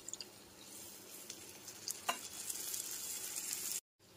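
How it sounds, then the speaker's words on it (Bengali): Spices such as cumin, turmeric and Kashmiri chilli powder sizzle in a pan after a little water goes in, a faint, steady hiss with light stirring clicks and crackles, then a brief cut to silence near the end. "মশলাগুলো কষানোর জন্য দিয়ে দিলাম সামান্য একটু জল"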